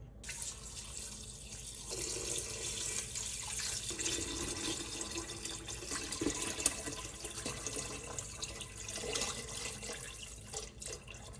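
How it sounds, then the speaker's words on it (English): A gallon of water poured into a pot of chicken bones and broth ingredients, a continuous splashing, gurgling stream heard up close for several seconds. "we're going to pour a gallon of water on top of it"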